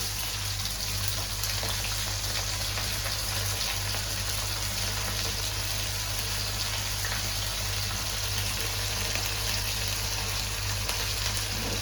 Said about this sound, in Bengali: এবার তেলটা গরম হয়ে গেছে, আমি পেঁয়াজ কুচোনোগুলো দিয়ে দিলাম।